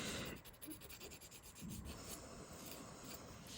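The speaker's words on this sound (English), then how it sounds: "This is how I file my nails." A nail file rasping across a fingernail, a steady soft scratching stroke repeated close up, faint and alone.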